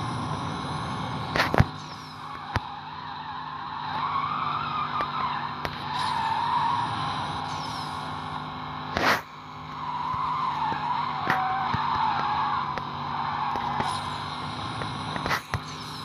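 Race cars in Need for Speed No Limits skid with long, high tire squeals that rise and fall, broken by sharp clicks and snaps over a steady engine hum.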